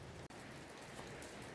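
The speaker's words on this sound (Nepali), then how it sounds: "यहाँ मेरो पछाडि पानी पर्नु सुरु भयो" Heavy rain falls steadily around Gangtok, a dense, even wash of drops hitting surfaces close by for the whole stretch, broken only by one very brief dropout, with no voices.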